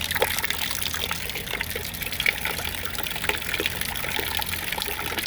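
Water from a 12VDC pump at an off-grid cabin runs steadily into a container, a continuous trickling, pouring hiss that stays even and close throughout.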